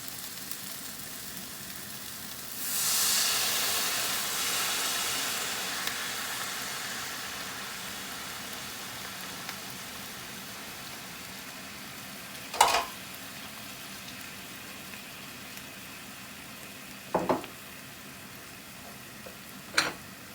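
Garlic in a pan with red wine added: a sudden loud hiss that swells and fades over a few seconds, then a low steady sizzle with a few sharp pops and clinks.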